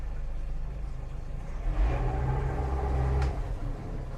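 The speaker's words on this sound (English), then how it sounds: "Motor started." A Mercury 60HP outboard motor on a 2018 Alumaweld Stryker 18 aluminum boat rumbles at a low idle, then swells into a louder, deeper throb for a couple of seconds before easing back, close by with no talking.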